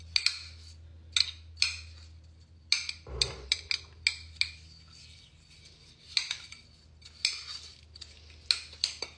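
A spoon stirring an olive oil scalp scrub mixture in a small bowl, giving sharp, repeated clinks and scrapes at an irregular rhythm, close and clear with no talk.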